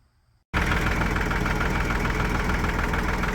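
A tractor engine idles steadily at a washed-out creek crossing, starting abruptly after a half-second of near silence and then holding a loud, close, even rumble to the end with no talk.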